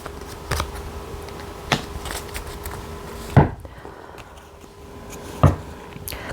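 Tarot cards being shuffled and drawn during a reading: soft, faint card slaps and riffles come at irregular intervals, with a few sharper snaps against a quiet room background.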